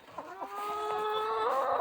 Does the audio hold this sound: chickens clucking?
yes